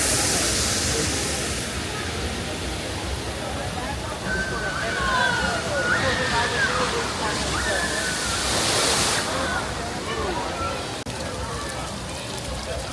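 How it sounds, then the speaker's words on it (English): Splashing water from a decorative fountain feature at Silver Dollar City theme park rushes steadily throughout, a broadband wash with people talking over it. "This is a pretty cool water feature here."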